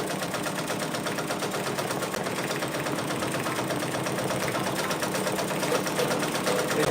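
A Brother Persona PRS100 embroidery machine running, its needle mechanism producing a fast, steady, loud mechanical chatter with an even rhythm throughout and no talking.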